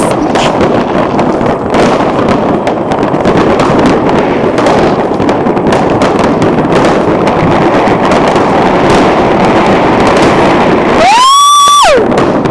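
A fireworks display over Copenhagen, Denmark, produces a loud, dense, continuous barrage of crackling bursts. A rising whistle cuts in near the end.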